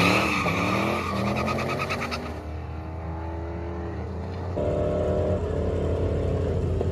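A junkyard-built turbocharged Corvette launches hard down a drag strip, its engine roaring loud and close with a brief tire chirp, then the note climbs steadily through the gears.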